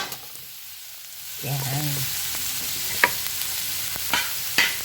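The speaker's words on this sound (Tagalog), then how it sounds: "Ihulog ngayon natin yung bawang." Chopped garlic goes into a hot pan with square grocery ham and breaks into a steady, loud sizzle, with a few stirring clicks against the pan and a brief spoken word near the start.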